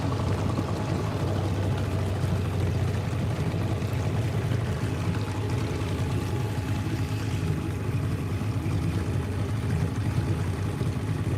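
A boat motor chugs steadily along a river, a constant low rumble mixed with rushing water, even and unbroken throughout with no voices.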